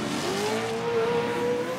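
Off-road racing trucks, Rams and a Ford, running around a track: a rising engine whine from a passing truck over a continuous rumble of engine noise.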